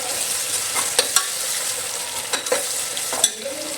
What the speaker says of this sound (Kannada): ಸೊ ಇವಾಗ ಇದು ಬ್ರೌನ್ ಕಲರ್ ಬರೋವರೆಗೂ ಫ್ರೈ ಮಾಡ್ಕೋಬೇಕು